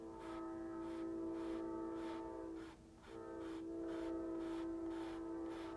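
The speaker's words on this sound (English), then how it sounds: "There goes the train by." A train rolls past with a sustained tonal hum and a rhythmic clatter of wheels pulsing about twice a second. The sound stays fairly even, dipping briefly midway, with no talk.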